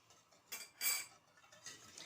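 Spoon stirring sugar and vanilla into cold milk in a pot, a few faint metallic clinks and scrapes against the pot spread over a couple of seconds in a quiet kitchen.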